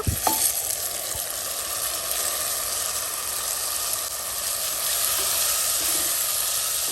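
Small chopped tomatoes fry in a hot pan for Mangalorean tomato saar, giving a steady, loud sizzle and hiss that runs unbroken throughout, with no talking.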